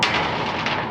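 A single loud, blunt report from a Remington 700 rifle in .243 fired outdoors in hot weather at a long-range target; the one-second burst fills the clip with broad, roaring noise and no talk.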